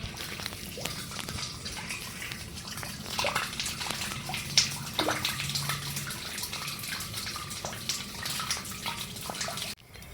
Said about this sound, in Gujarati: આમાં પાણીનો અવાજ આવતો હતો તમે પણ સાંભળી જ લ્યો